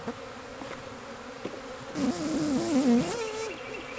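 Bees swarm around an open Apimaye hive during a colony split, droning close and steady, with a louder wavering buzz as one passes near the microphone.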